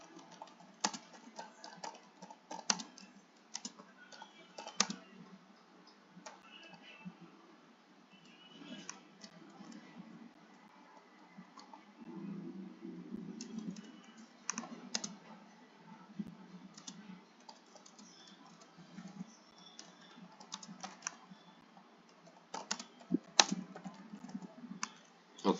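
Typing on a computer keyboard, with quiet, close, irregular clicking keystrokes arriving in short bursts and pauses throughout.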